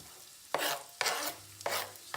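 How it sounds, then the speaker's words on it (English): Garlic and onion frying lightly in a heated pan, heard as three short, separate bursts of sizzling and stirring with quiet gaps between them, close but not loud. "we're going to put the garlic and onion in there first,"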